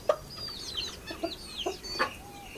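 A bantam rooster, its feet tangled in thread, gives a series of short, close clucks and squawks spaced irregularly over a couple of seconds against a quiet background.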